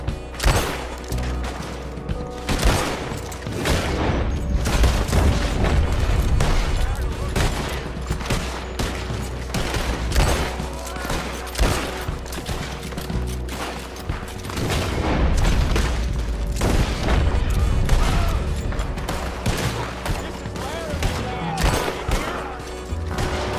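Dense, nearly continuous gunfire and booming shots fill a shootout in the video game Red Dead Redemption 2, loud and sustained throughout with brief lulls.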